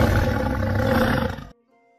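A huge tiger's roar thunders through a mountain setting, loud and close, sustained for about a second and a half before cutting off abruptly into near silence.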